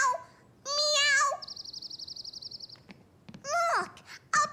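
Cartoon children imitating cats, giving drawn-out, wavering vocal meows along with a long trilled birdlike warble in between, close and clear.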